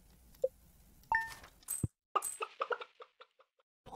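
Chickens clucking in Stardew Valley, a few short, clear clucks and squawks with bright, clinking tones between them, spaced irregularly over a quiet background.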